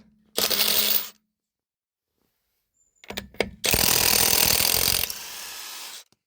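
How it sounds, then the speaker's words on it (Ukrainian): A cordless impact wrench used for suspension repair on a Ford Focus 3 runs in loud, close bursts: one short whir, then clicks and a longer sustained rattling run that trails off into a quieter spin-down. "показую, як мій гайковерт працює"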